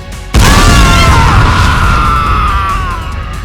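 A Sentry Buster detonates in Team Fortress 2, a sudden loud boom that hits at once and then rolls on as a long, roaring, slowly fading blast.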